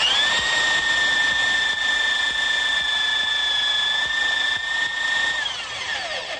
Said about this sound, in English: Now ready to drill.